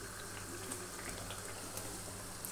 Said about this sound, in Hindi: तो अब हम इसकी प्याज की अच्छे से बुनाई करेंगे